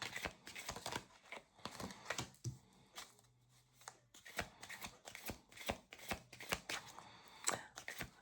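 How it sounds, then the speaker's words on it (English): Oracle cards are shuffled and dealt onto a table during a spiritual card reading, giving a run of quick, crisp riffling and slapping bursts with brief pauses, close and fairly quiet, with no talking. "Can I get some cards out on the table here?"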